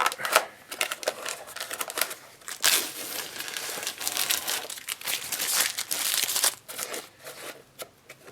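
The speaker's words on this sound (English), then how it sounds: "The paint has dried enough to remove the masking tape." Masking tape is peeled off dried paint in bursts of crisp crinkling and tearing, close up, with uneven rustles and crackles and no talking.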